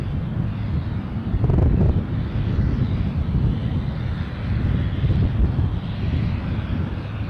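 An Eastern Airways airliner departing Aberdeen for Wick rumbles past nearby, a low, steady engine roar mixed with gusty wind buffeting the microphone, with no voices.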